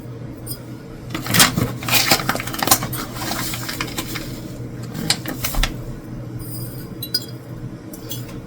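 Salt spooned into glass canning jars, scattered clinks and taps of a spoon against glass with light rattling, fairly close and alone.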